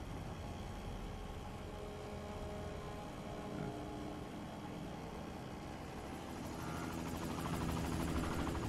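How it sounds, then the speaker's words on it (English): Black helicopters in a video game, a steady close rotor and engine drone that stays loud throughout and swells slightly toward the end, with no talking. "It's the fucking black helicopters, Debbie."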